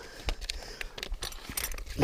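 Wrapped metal keys from a portable motorcycle tire compressor kit being packed away, giving short irregular jangles and rustles at close range, quiet and without talking.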